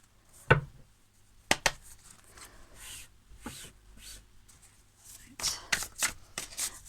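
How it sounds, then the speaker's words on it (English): Tarot cards shuffled and pulled at a table, with sharp riffling bursts and a flurry of card slaps and flicks up close, amid quiet shuffling pauses. "I will try and pull these cards as quickly as I can"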